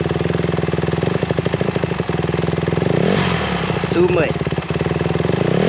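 Dirt bike engine idling with a rapid putter, then revving up briefly with a rising whine under a little throttle before settling back, close and loud, with a voice speaking briefly over it.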